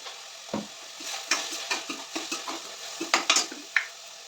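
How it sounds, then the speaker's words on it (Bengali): Vegetables with boiled potato and salt being stirred and fried in a pan: a steady sizzle under repeated light scrapes and clinks of a spatula, close and moderately loud. "দিয়ে আবারও একটু নাড়াচাড়া করবো।"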